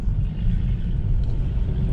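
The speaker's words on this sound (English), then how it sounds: "We are on the road. This Mazda 3 is actually really nice." Mazda 3 cruising on the road, heard from inside the cabin as a steady, loud low rumble of engine and tyre noise with no break.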